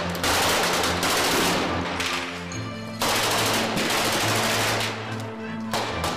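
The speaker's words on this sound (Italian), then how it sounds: "Quando l'arma spara a salve, per cui non c'è nessun pericolo per le persone sia della troupe" A gun fires blank rounds on a film set in rapid automatic bursts, loud and close, with brief pauses between volleys.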